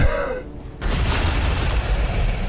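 A loud grenade explosion in a video game, a sudden broad boom after a brief hush that rolls into a sustained rumbling wash of debris and noise.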